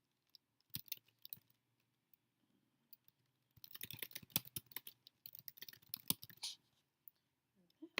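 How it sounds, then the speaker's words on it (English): Keys on a computer keyboard clatter quietly as a short description is typed into a case record, first in scattered taps, then in a denser run of clicks, heard up close with no talk. "I can then type a brief description here,"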